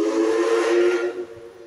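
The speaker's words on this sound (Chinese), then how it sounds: "蒸汽火车鸣笛" A DT668 steam locomotive sounds one long, loud, steady whistle blast near Changhua railway station during a centennial roundhouse celebration, holding for over a second before tailing off, with no voices.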